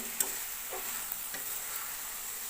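Quiet sizzling from a pan with a few soft scraping stirs of spinach, steady and close, no voices.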